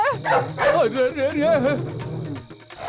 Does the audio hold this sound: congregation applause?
no